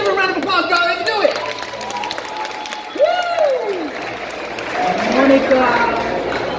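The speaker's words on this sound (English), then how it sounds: "Let's give her a round of applause, guys." A Comic Con Q&A crowd claps and cheers, with whoops and shouts rising over steady applause while people talk and call out nearby.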